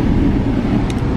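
Steady low road rumble and engine hum from an Audi Q5 on a test drive, heard from inside the car with no one speaking.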